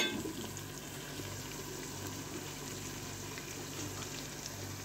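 Steady, close sizzle of garlic, ginger and onion frying in a pan as tomato goes in for a masala, a continuous bubbling hiss with soft crackles and no talking.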